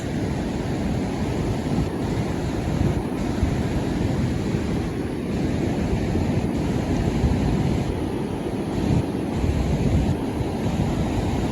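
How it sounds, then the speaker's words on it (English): Storm-surge ocean waves crash steadily on a winter shore after rain, a loud, continuous roar of surf with wind buffeting the microphone throughout and no voices. "Just look and listen to those waves."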